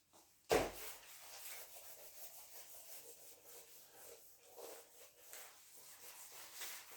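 A sudden knock, then several seconds of soft, steady rubbing against a surface during a classroom lecture, quiet and continuous with faint swelling strokes.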